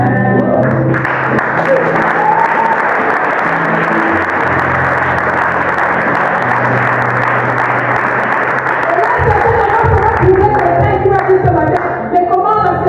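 A church congregation applauds and cheers loudly and continuously, a dense wash of clapping and voices that carries on throughout without pause.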